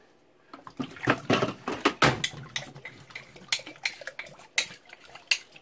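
Scraping a soaked label off a beer bottle, uneven bursts of scratchy rubbing and glassy knocks at close range, with no voices.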